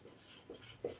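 Faint pen or chalk strokes scratch out a few short marks while working through a meter bridge physics problem, with three soft brief bursts in about a second and no talking.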